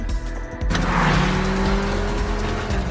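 A car speeds off fleeing police in a film chase scene. Its engine surges loudly into a sustained roar with tire squeal, close and intense, with no voices.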